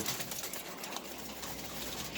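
Afsan Gizel pigeons, an original master pair sitting on eggs at a pigeon farm, give soft, low cooing that stays faint and steady under light background noise.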